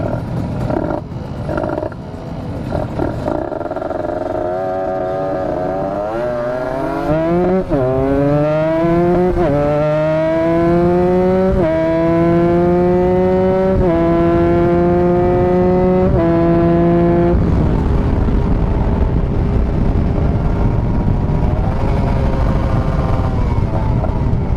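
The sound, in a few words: motorcycle engine revving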